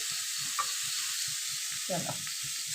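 A chicken fry mixture is stirred in a hot pan, a soft steady sizzle with regular rhythmic scraping strokes of a spoon, close and moderately quiet.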